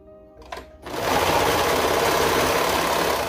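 A sewing machine starts after a brief pause and runs steadily, stitching fabric with a fast, even mechanical whir and rattle up close, continuing without a break to the end.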